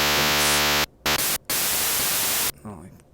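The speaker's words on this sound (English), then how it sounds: "make this actually sound like a hi-hat" LSDj on a Game Boy plays noise-channel hi-hat tones, loud bursts of harsh static hiss cut into short blocks with abrupt gaps, after an opening buzzy tone, with faint talk near the end.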